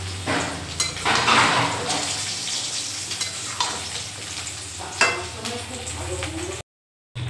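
Meat cooking down for kosha mangsho in a pan as its released water reduces, with continuous sizzling and frying plus clinking stirs of a utensil against the pan, with no talking, then a brief silent gap near the end.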